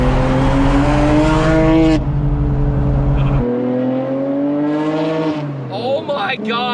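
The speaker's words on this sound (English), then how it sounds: "The best exhaust, I will defend this to the death for the R32 Skyline, or pretty much any Skyline, is the Tomei." Nissan R32 Skyline fitted with a Tomei exhaust, driven with the windows down, giving a loud, steady harmonic engine drone that shifts pitch partway through, with talking over it.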